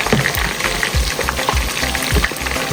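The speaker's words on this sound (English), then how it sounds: "So you go ahead and flip them so the other side can also fry." Chicken pieces for Haitian fricassee fry in a pan with a loud, continuous sizzle, joined by a rhythmic scraping and stirring pulse.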